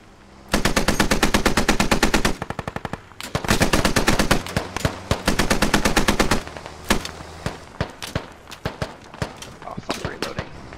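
Machine gun fire in the video game Squad: loud, close automatic bursts in long rapid strings, then shorter scattered shots and distant cracks toward the end.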